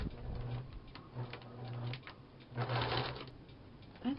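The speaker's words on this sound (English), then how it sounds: "all I'm going to do is sew down that side, sew down each side like that" A sewing machine stitches down the sides of a fabric folder in short, quiet bursts of rapid ticking and whirring, stopping and starting several times.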